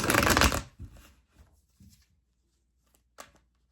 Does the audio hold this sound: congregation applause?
no